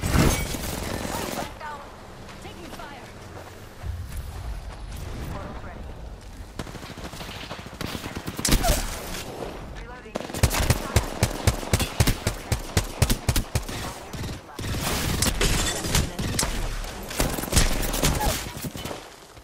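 Rapid bursts of gunfire in the battle game Apex Legends, sharp repeated shots crackling loudly and close, mixed with explosions and chaotic combat noise, clustering densely in the second half.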